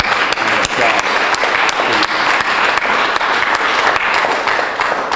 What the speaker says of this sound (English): Let's give them all one more applause.